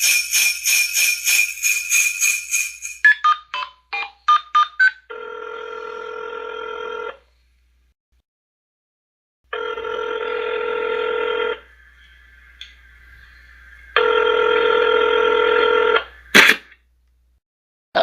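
A telephone is picked up and dialled, with a quick run of touch-tone beeps followed by three long, evenly spaced ringback tones separated by silence.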